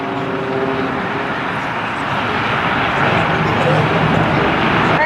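Aerobatic display aircraft fly close formation at Culdrose Air Day in 2015, a loud continuous engine drone that builds slightly, heard under an announcer speaking over the public address.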